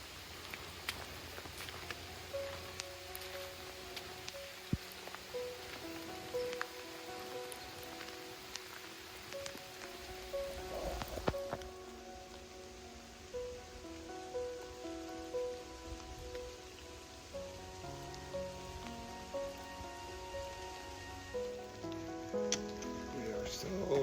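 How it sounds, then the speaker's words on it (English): Rain patters softly and steadily on a surface, with occasional louder drips and a faint tonal chirping in the background. "Morning rainstorm for freshwater rinse."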